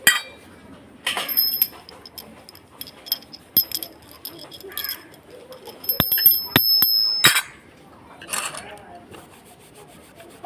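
Brass puja vessels being washed by hand give sharp metallic clinks and knocks between stretches of scrubbing and rubbing, close by and irregular.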